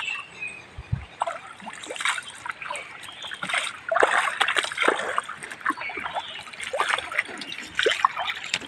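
Fresh river water splashes close by as someone washes their face in the Panchanadi river, with repeated scooping splashes and trickles in an uneven rhythm.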